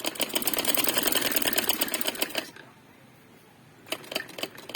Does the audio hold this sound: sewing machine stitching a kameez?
yes